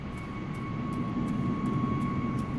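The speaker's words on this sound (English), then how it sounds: "I'm gonna have to turn down other aircraft volume." Another airliner's jet engines in Microsoft Flight Simulator 2024 drone steadily nearby, a loud continuous whine and rumble at an airport while taxiing, with no talk over it.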